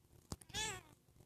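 A house cat gives a single short meow, faint and close in a quiet room, with one small knock just before it and no talking.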